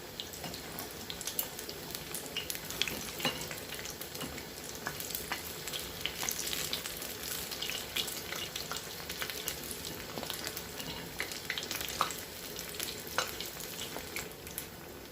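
Mutton chops frying in a pan over a medium flame, a dense, continuous crackling sizzle with scattered pops that stays loud and close throughout, with no voices.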